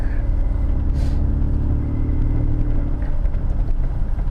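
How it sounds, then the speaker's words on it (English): Steady low engine rumble from a car gently accelerating on a winter street while pulling across to look for a parallel parking spot, continuous and fairly close with no talk. "so I accelerate gently to go across."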